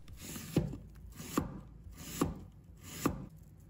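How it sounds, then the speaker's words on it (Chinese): A knife slicing half an onion into strips on a cutting board: four crisp, evenly spaced chops about a second apart, close and quiet, with no talk. "再准备半个洋葱，把它切成丝"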